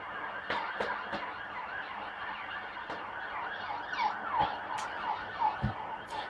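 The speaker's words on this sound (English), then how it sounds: "there's a police siren, just like that one" A police siren wails in a Liverpool city centre street, its rising and falling tones repeating at moderate distance over traffic and street noise, with occasional sharp knocks.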